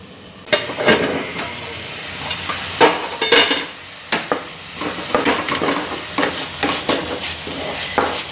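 Bitter gourd stir fry tossed and stirred in a pan, a series of scraping and clattering strokes over a soft sizzle, close and fairly loud with irregular rhythm.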